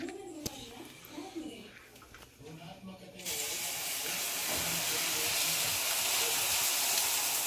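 An omelette sizzles loudly in a hot pan, a broad steady hiss that sets in suddenly partway through after a stretch of talk and kitchen noise, with voices continuing beneath it.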